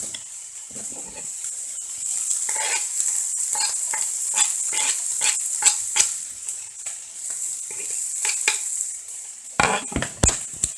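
Garlic frying in a very hot pan on a large hob, a steady bright sizzle with crackles and spits, plus occasional stirring clinks and scrapes of the utensil against the pan.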